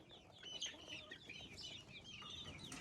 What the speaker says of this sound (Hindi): ये प्योर देसी चूजे हैं सारे। अपनी मुर्गी के हैं, हमारी अपनी मुर्गी के।